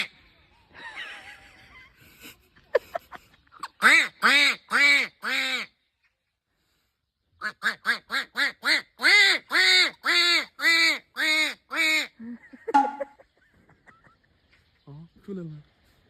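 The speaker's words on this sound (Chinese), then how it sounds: "我下面换个鸭子，看看能不能出来啊？" Loud duck quacks are played to dogs in two rapid rhythmic runs separated by a pause, with brief human vocal sounds at the start and end.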